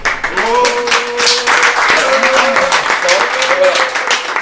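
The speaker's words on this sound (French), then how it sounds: "de se lever pour que vous l'applaudissiez très fort" Audience applause at a French magazine's fifth-anniversary celebration, a steady dense wash of clapping held at even loudness throughout, with a voice speaking over it.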